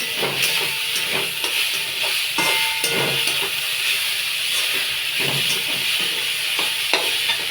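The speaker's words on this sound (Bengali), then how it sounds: "আর চিংড়িটা এখন দিয়ে দেব। ভালো করে কষে নেব।" Prawns frying with chopped tomato in a pan, stirred steadily: a continuous close hiss of oil with repeated scraping strokes of a spatula, no voices.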